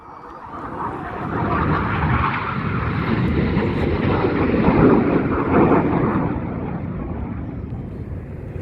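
Jet aircraft of the RAF Red Arrows flying a display at an air festival, a broad continuous roar that swells gently mid-pass and holds steady without voices.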